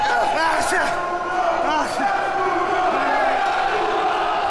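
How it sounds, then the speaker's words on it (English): A wrestling arena crowd roars and yells without letup during a tag team match, a dense wall of shouting and whoops with voices rising above the din throughout. "The crowd going absolutely wild now as Hannibal picks the Hickster up"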